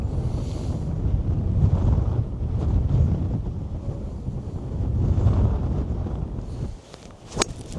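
Strong wind buffeting the microphone on a golf course, a loud continuous rumbling roar that surges and eases, with a few brief sharper noises near the end.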